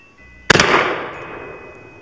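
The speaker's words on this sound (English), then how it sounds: "for this shot, we've got the good old Mosin Nagant 9130" A single loud rifle shot from a Mosin Nagant 91/30 firing a 203-grain soft point into a cast iron engine block outdoors: a sharp crack followed by a short clattering impact and a long fading echo.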